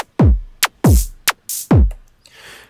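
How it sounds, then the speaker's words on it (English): A simple electronic drum loop from a pitch grain looper patch: booming kick drums alternating with sharp snare-like percussion hits and small hi-hat ticks, playing loud and clear in an uneven rhythm, with a soft hissing tail at the end. "very simple combination of kick drum, sort of kind of snare, percussion kind of sound, and then the little hi-hat sound"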